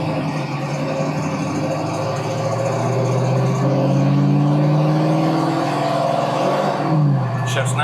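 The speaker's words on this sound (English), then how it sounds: "Bit of acceleration here." A 1968 Ford Mustang GT engine revs up from inside the car, its pitch rising as it accelerates, then easing off around a shift. A loud, full rumble plays under someone talking.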